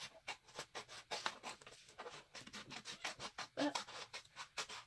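Scratch art paper being scraped with a tool, a quick series of short, close, rhythmic scratching strokes repeating steadily with no talking.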